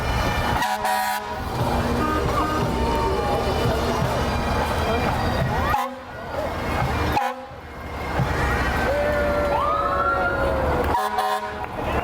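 A fire engine siren wails alongside blaring horn blasts during a fall foliage festival parade in Warner, loud and continuous over busy outdoor crowd and traffic noise.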